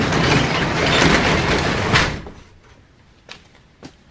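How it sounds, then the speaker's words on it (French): A door swings shut and cuts off loud, steady background noise, leaving a quiet room where a couple of faint knocks follow. "On ferme la porte."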